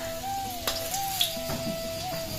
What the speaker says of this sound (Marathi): हे आपल्याला तेलात टाकायचंय